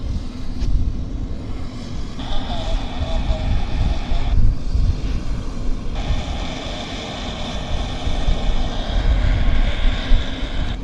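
An Air China Boeing 777-300ER bound for Zhengzhou at Vancouver Airport, its jet engines a loud, steady low roar with a tonal whine that rises and fades, under a voice talking throughout.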